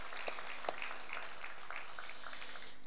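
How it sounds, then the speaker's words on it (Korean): Faint, sparse clapping from a church congregation during a Sunday worship service, a few scattered claps over a quiet room tone that thins out toward the end. "우리 한번 박수로 격려해 주실까요?"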